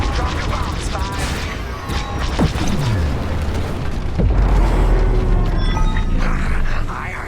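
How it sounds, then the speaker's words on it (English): Bombs blasting in the Star Wars: Squadrons space combat game on Xbox Series S, a continuous roaring rumble with heavy booms and crashing debris, swelling louder near the end over engine noise and radio chatter. "Drop your bombs, Five."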